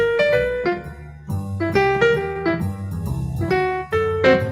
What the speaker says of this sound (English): I learned this one this week on mandolin.